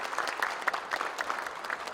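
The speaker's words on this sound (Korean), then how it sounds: "크게 인사 크기로 박수로 빛내주시기 바랍니다" A church congregation applauds during an elder ordination service, steady dense clapping that sounds fairly distant and moderately quiet, filling the room evenly.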